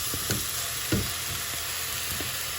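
Chopped vegetables for curry chickpeas hit a hot oiled pan, giving a steady close sizzle of frying with a few soft stirring knocks throughout.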